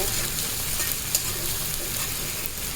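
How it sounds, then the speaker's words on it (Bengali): Garlic frying in a generous amount of oil for a black cumin bharta, a dense, continuous sizzle that stays close and even throughout with a faint stir partway, no talking. "রসুনগুলো দিয়ে দিলাম এটা একটু ভালো করে আমি ভেজে নিব"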